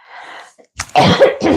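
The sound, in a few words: cough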